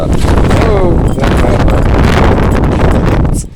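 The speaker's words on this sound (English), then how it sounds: "it's blowing the water out of my pan. That's how windy it is." Strong wind buffets the microphone with loud, rumbling gusts that hardly let up, strong enough to blow water out of a gold pan outdoors, and a voice is faintly heard under the roar.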